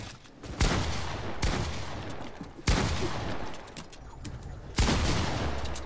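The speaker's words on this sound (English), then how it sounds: "why is my shotgun shooting sometimes?" Shotgun blasts in a video game, four loud booming reports spaced irregularly, each leaving a rumbling decay, over steady background game noise.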